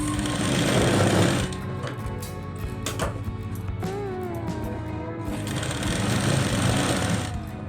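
A sewing machine stitches blouse fabric in continuous runs, loud and close, with a brief pause and slowdown midway before the steady mechanical whirring resumes.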